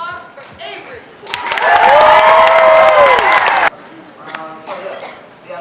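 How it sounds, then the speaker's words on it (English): An audience bursts into loud applause and cheering for Avery, a magic performer at the Hawks Got Talent school talent show. The clapping swells for a couple of seconds, then cuts off, with speech before and after. "Give a round of applause for Avery."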